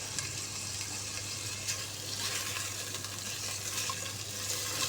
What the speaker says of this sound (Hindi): और जब तक चिकन फ्राई हो रहा है